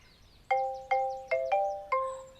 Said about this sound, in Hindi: क्या बज रहा है फोन?